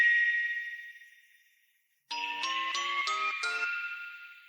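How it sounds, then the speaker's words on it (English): Sampled bells ring out as a counter melody in a chillhop beat, a fading tinkle giving way to a quick bright run of five chiming bell hits over a sustained tone. "I wanted to take those bells and create a counter melody."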